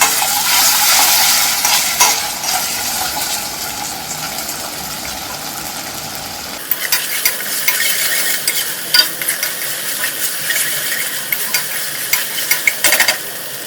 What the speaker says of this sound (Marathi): 1 चमचा मी याच्यामध्ये घेते आहे आलं आणि लसूण याची पेस्ट.